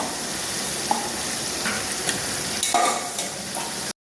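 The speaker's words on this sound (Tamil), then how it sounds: "சிக்கனை வெங்காய தக்காளி கூட நல்லா வதக்கிடுங்க" Chicken sizzles and fries with onion and tomato in a pot for biryani, a steady close hiss broken by a few scraping stirs of the spoon, with no talking.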